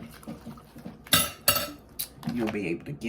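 Dishes, pots and cutlery clatter in a kitchen sink as they are piled up, with sharp clinks and bangs spaced irregularly over a quieter background and a voice speaking faintly now and then.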